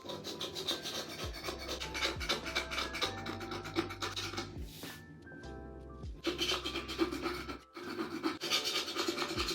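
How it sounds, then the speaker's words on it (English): A scraper grinds back and forth over a sticky stain during an apartment makeover, giving repeated close, rough rasping strokes with brief pauses between passes and no talking. "so then I went with my scraper"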